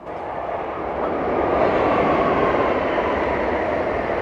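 A passenger train rolls past on a nearby rail line on the Washington DC to New York route in winter, a loud, steady rumble that swells after the first second and holds.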